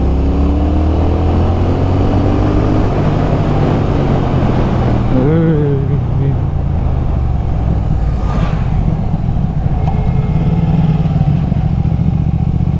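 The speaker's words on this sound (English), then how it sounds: "the brutal acceleration of the Thruxton, I'm at 60 kilometers per hour in third gear" A Triumph Thruxton motorcycle accelerates hard in third gear from about 60 km/h: a loud, close engine roar climbs in pitch, mixed with heavy wind rush, steady and continuous throughout with no voices.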